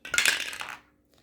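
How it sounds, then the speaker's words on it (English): A short burst of small dice clattering and rattling on a hard surface for a savings board game, near and brief, settling into silence within a second. "So we need the dice."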